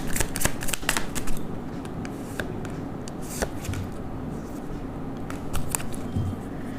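Tarot cards shuffled by hand in a steady run of crisp riffling and flicking bursts, close and fairly loud, with no voice over them.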